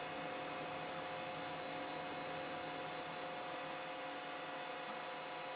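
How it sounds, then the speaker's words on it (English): A drive being reinstalled in a Pentium Pro computer whirs steadily while loading, a constant close mechanical hum with faint intermittent ticks and no talking. "That is loading. That's the sound of it loading."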